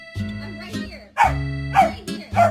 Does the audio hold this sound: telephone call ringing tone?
no